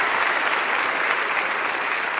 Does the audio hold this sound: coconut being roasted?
no